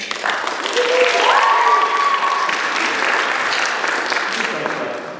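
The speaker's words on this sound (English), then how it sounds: "Why would you clap to everyone?" An audience in a debating hall at a university debate claps steadily, a full round of dense applause from many people that swells and then gradually tapers off, with a voice rising briefly within it.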